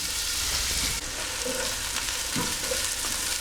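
Sliced onion hits a pan over low to medium heat, giving a steady close sizzle and crackle with a few soft stirring knocks.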